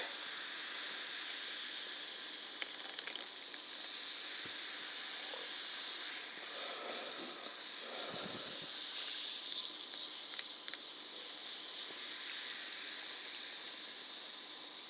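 Steady soft fizzing hiss of naturally flavored canned cola poured into a mug, with faint trickling and bubbling throughout, fairly quiet and close.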